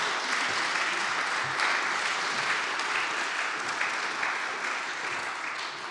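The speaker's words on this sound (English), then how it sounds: "I would like to first give them a big round of applause" Audience applause at a 2019 alumni reunion, dense, steady clapping from a large crowd that holds throughout and eases slightly at the end.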